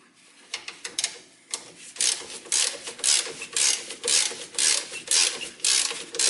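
Spring compressor tightening a car's rear coil spring, heard as a close, loud series of rhythmic ratcheting clicks, about a dozen regular strokes after a few scattered clicks at the start, with no talk.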